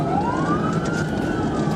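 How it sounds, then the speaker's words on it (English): A police car siren wails steadily and loudly throughout, a rising tone sweeping upward over the rumble of road traffic, with no talking. "When emergency lights and siren were activated, the driver failed to stop"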